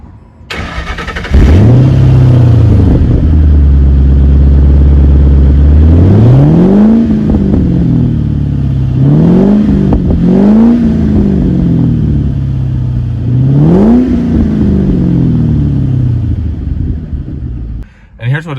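A 2007 Ford Mustang Roush with a 4.6 V8 and a Roush cold air intake cranks and fires into a loud, deep idle. It then blips through four sharp revs that rise and fall back to a rumbling idle before shutting off.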